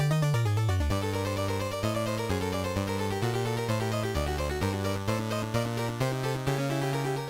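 Bright, buzzy NES chiptune music from a Castlevania game, with layered square-wave tones imitating a synthesized string section, playing steadily and alone.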